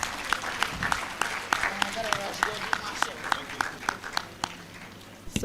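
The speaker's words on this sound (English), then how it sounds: "Round of applause." An audience at a University of Ghana 75th anniversary lecture gives a round of applause: scattered, uneven hand claps that thin out and slow toward the end, with a voice talking beneath them.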